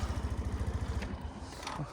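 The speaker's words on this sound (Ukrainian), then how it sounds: "Гарно працює двигун, чисто" A Suzuki Address V125 S scooter engine runs close by with a fast, even pulsing putter, steady and fairly loud, easing slightly toward the end.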